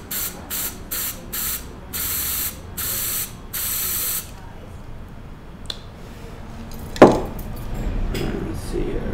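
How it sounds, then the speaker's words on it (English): Several short bursts of fluorescent spray paint hissing in quick succession, close and fairly loud, followed by quieter handling noises and a sharp click. "Just lightly just spray it."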